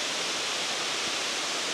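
Light, steady wash of water at the base of a waterfall running low, a soft even hiss with no other sounds.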